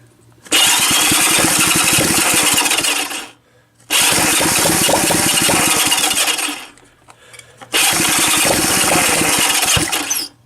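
A small Honda engine starts up three separate times, each time running loudly and roughly for about three seconds before cutting out into near silence.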